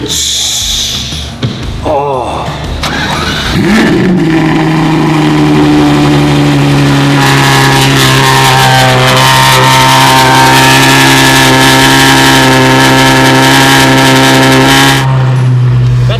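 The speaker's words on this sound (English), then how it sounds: "cold start right there, boys" A Lamborghini engine cold-starts after a brief cranking whine, bursting into a loud, steady high idle that holds close and strong for several seconds, with people talking faintly around it.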